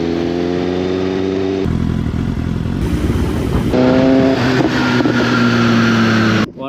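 Motorbike engine roars loudly and close on a ride from Dubai toward Fujairah, with steady droning gear tones that shift pitch several times as the rider changes speed. The engine runs alone, with no voices present.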